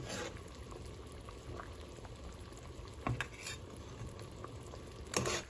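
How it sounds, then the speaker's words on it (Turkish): Kumquat jam simmers with orange juice in a pot, a soft continuous bubbling sizzle with occasional stirring clinks and scrapes close by. "Soğuyan reçelimizin üzerine portakal suyumuzu ilave edip 20 dakika tekrardan kaynatıyoruz."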